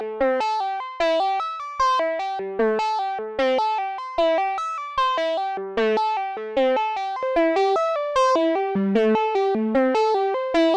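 A Korg Volca Modular synthesizer through a low pass gate plays a fast, rhythmic sequence of plucky notes, each one decaying quickly, with a bright, slightly distorted tone and no voices.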